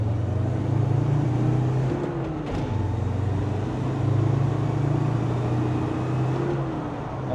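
A Land Rover Defender Td5 90 diesel accelerates in second gear on a wet, slippery road, a steady close engine drone rising and falling slightly in pitch throughout, with no talk over it.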